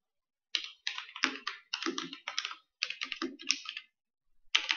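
Typing on a computer keyboard during an Xshot online competition, with close, crisp bursts of rapid key clicks in several quick runs separated by short pauses.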